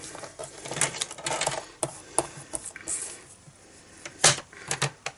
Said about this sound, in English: now we're going to cut this out using our trimmer